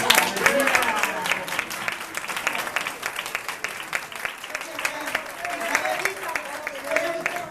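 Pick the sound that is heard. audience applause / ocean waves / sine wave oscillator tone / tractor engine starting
audience applause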